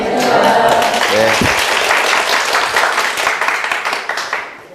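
A lecture audience for a real estate agent exam class claps, loud and dense at first, thinning toward the end, while a voice briefly speaks over the start.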